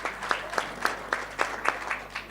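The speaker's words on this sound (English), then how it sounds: "let's give him a round of applause" A small audience at an NHI meeting gives a brief round of applause, sparse individual claps landing in a loose, roughly regular rhythm over a low hum.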